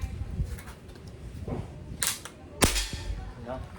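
A CO2 airgun fires a single sharp shot outdoors, a brief loud crack over quiet ambient noise, with a couple of fainter clicks nearby.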